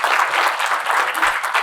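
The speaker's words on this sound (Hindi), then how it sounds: "मैम के लिए एक बार जोरदार तालियां होंगी।" An audience claps loudly for actress Rani Mukherji in a short, dense burst of applause with no voices over it.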